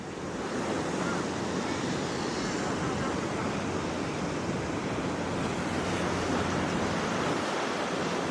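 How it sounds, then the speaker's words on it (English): Strong wind buffeting at the coast near Palm Beach, a dense, continuous roar blended with surf, loud and steady for the whole stretch with no voices. "It's very windy."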